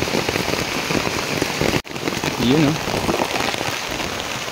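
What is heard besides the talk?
rain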